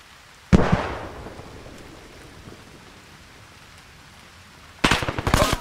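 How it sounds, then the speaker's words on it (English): A grenade explodes in a military video game with a sharp loud blast that fades out, then after a quiet stretch comes a close burst of rapid gunfire. "Throwing a grenade."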